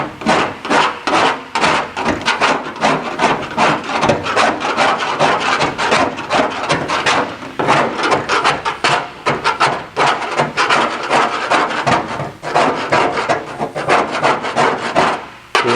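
A metal surface, rust loosened by naval jelly, is scraped by hand in a close, loud rasping run of quick strokes that continues almost without a break, with no voices.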